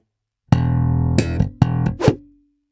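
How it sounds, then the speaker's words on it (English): Slap bass lick with an open E slap, a left-hand slap and a muted slap, played once as a single close, punchy phrase with a sustained low note, sharp percussive hits and a ringing tail. "After that, we slap an open E,"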